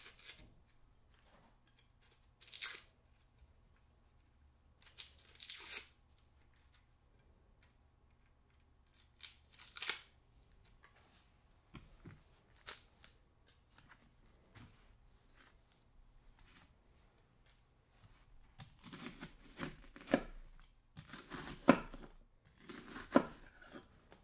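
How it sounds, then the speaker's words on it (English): Onions given a rough chop with a knife on a board while making homemade chicken noodle soup, scattered quiet cutting taps and crunches that grow busier toward the end, close and soft with long pauses. "just do a rough chop on our onions here"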